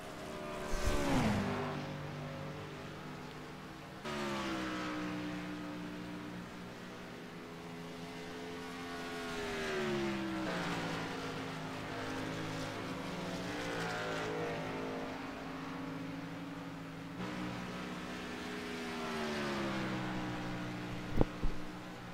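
Race cars circle a track in a 36-car practice, 25-car race field, their engines rising and falling in repeated passes with shifting pitch, loud and continuous across the stretch, a sharp knock near the end.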